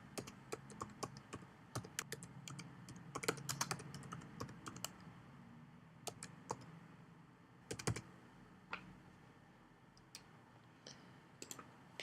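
Computer keyboard typing while composing a business letter: quiet, irregular bursts of crisp key clicks with short pauses, close up and alone in a hushed room.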